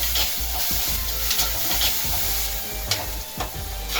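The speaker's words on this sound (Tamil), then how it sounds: "நல்லா பிரிஞ்சு வர அளவுக்கு நல்லா வதக்கி விட்டுருங்க" Onions and tomatoes sautéing in a pan for a crab masala gravy, a loud close sizzle broken by repeated scraping spoon strokes in an uneven stirring rhythm.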